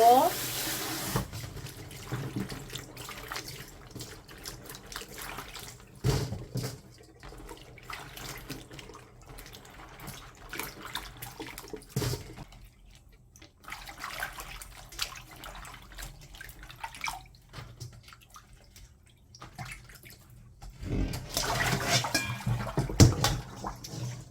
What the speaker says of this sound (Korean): 청양고추 씻어볼 건데요. 두세 번 정도 씻어주고